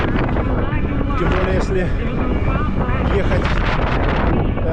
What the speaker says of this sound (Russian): Ух ты, ветер.